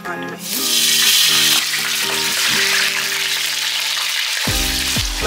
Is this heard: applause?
no